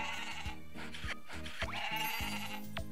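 Goats bleat in the Story of Seasons: Pioneers of Olive Town video game, several short repeated bleats over a looping tune.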